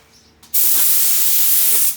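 Spray gun applying Dixie Belle paint over furniture: a loud, steady hiss starts after a brief quiet moment and continues without a break, close to the microphone, with no voices.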